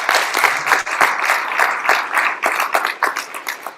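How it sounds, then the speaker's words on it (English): Steady applause from a sizeable crowd, dense and continuous clapping throughout, fairly loud with no talking over it. "round of applause for our kitchen crew"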